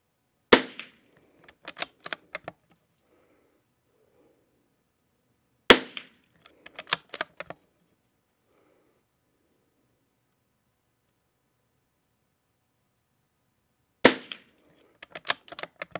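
A CZ 455 .22 rifle fitted with a Lothar Walther barrel fires ELEY match ammunition, three sharp isolated cracks spaced several seconds apart, each trailed by faint clicks of action handling, in otherwise quiet surroundings.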